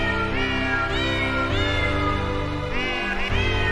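A cat meows repeatedly, several drawn-out, rising and falling cries over a steady tonal background, close and prominent.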